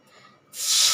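Water is poured into a hot pan of roasted vermicelli, setting off a sudden loud, sustained sizzling hiss after a brief quiet moment.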